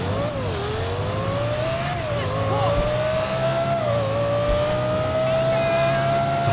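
A Lexus LFA in the video game GTA 5 revs and accelerates loudly, its high-pitched engine note climbing and dipping through gear changes, sustained and close throughout.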